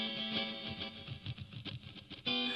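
A KORG Pa700 arranger keyboard plays a short melodic phrase with increasing reverb added to the track, notes ringing and blurring into a wash before a new sustained chord enters at the end.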